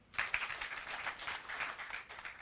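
A crowd at a political rally in Nakuru, Kenya claps in bursty waves, loud and fairly close, with no voices over it.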